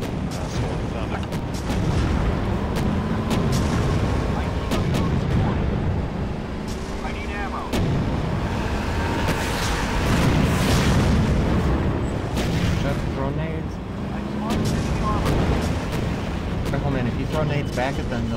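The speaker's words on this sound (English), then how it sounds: "They're throwing nades because they're desperate." Grenade explosions and gunfire in the Empires Source mod video game, booming blasts and shots rolling continuously through a busy firefight, with players talking over the action.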